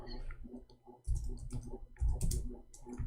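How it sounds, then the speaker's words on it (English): Typing on a computer keyboard outdoors at a public spot in San Diego's Balboa Park: bursts of soft, irregular key clicks that come and go in clusters, fairly faint and close, over low background noise. "We are typing in English, hold on."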